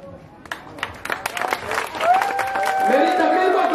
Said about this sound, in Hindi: ताली मत बजाओ